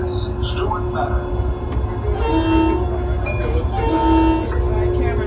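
A train pulls through a railroad museum station, with a steady low rumble, a couple of sustained horn-like tones and squeals, and people talking nearby.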